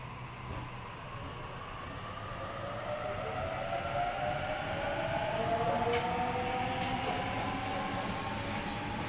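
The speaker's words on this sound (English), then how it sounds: "A30 now departing platform number 1, City Circle by Sydenham service." Sydney City Circle train departing a suburban station platform at Campsie, a rising electric motor whine climbing steadily in pitch as it pulls away, with short high squeals and clicks from the wheels in the final seconds.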